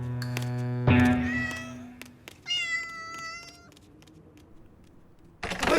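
A cartoon cat gives several clear meows, one long and strained and another higher and wavering, with faint soft taps and a burst of rustling noise at the end.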